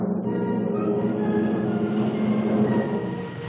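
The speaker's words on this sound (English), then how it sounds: "The tanks, followed by the armored infantry, move into the attack position." Armored column of tanks rolling forward into attack position with armored infantry following, a steady, loud, continuous rumble and clatter of tracks and engines with no pauses.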